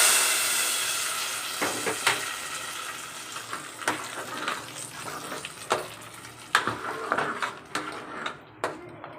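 Hot oil tempering of dried chili and asafoetida sizzling and spattering into a curry, a steady hiss broken by sharp crackling pops that grow more frequent, close by with no talking.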